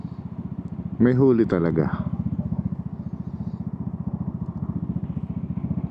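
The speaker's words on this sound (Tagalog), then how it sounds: "Sana hindi tayo makasalubong ngayon kasi medyo maingay yung natin, exhaust natin." A modern Vespa scooter with a loud aftermarket exhaust rides along during a group gentleman's ride at Philippine Vespa Days 2025. Its engine throbs steadily throughout, and a person briefly talks over it near the start.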